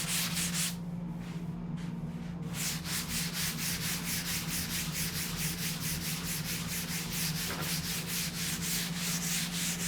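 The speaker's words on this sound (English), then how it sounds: "You can just feel the wood hitting the sandpaper" A wooden surfboard blank is sanded with 50 grit sandpaper in a shaping bay, making continuous close, loud rasping strokes in a regular back-and-forth rhythm with no speech.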